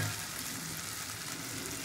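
Fried potato, jackfruit and prawns cook in a spice masala, giving a continuous, even frying sizzle at close range with no talking.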